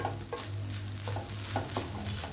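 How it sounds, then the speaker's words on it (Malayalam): Grated coconut fries in coconut oil in a pan for a kadala curry, a steady close sizzle broken by several scraping stirs of a spoon against the pan. "നമ്മുടെ തേങ്ങ ഇവിടെ ഫ്രൈ ആയിട്ടുണ്ട് ഉണ്ടല്ല"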